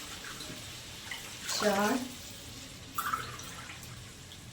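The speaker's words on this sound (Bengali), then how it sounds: "5 বাটি জল দিলাম।" Bowlfuls of water poured into a cooking pot: a brief splashing pour, then a second shorter splash a little later, with a voice counting softly between them.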